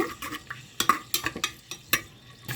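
Green chillies fry in oil with biryani spices while a spoon scrapes and clinks against the metal pan in quick irregular strokes over a low sizzle.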